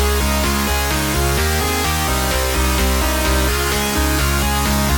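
A crisp, dense, melodic electronic dance break in the future house style, with a steady pulsing beat and bright layered synth chords, loud and continuous with no voices.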